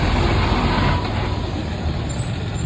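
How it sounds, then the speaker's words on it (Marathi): Heavy road traffic near Raigad in monsoon rain, buses passing along the road with a steady loud engine rumble and broadband tyre and rain hiss, louder in the first second then slightly easing. "मंडणगडच्या पण गाड्या इकडून जातात."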